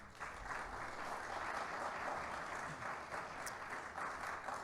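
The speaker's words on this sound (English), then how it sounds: "Please give Angel a big round of applause." A university Shark Tank audience gives a round of applause, an even wash of many hands clapping at moderate distance, sustained without a break and fairly soft overall.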